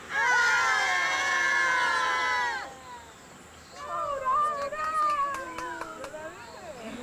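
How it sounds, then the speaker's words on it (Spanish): A group of women in a collective shout together loudly on a count of three, a sustained high cry lasting about two seconds, followed by scattered excited voices and chatter nearby. "Vamos a pegar un grito y liberamos todas las malas energías."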